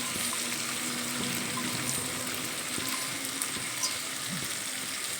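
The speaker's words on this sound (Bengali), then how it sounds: "এই পর্যায়ে এসে এর মধ্যে ধুয়ে পরিষ্কার করে রাখা মসুর ডাল অ্যাড করে দিলাম" Washed red lentils tumble into a pan of papaya and spices, giving a steady wet, splashing hiss with a faint sizzle underneath, continuous and fairly close.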